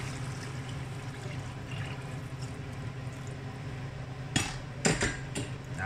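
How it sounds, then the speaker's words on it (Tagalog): Water poured into a pot of sinigang pork ribs, a steady broad wash with a few sharper clanks of metal near the end, close and fairly loud with no talk. "Lagyan na natin ng tubig."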